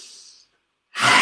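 A forceful yogic in-breath taken fiercely, with a rasping, wide-mouthed style: a soft breathy sound, a moment of silence, then a loud, close, harsh intake of air at the end.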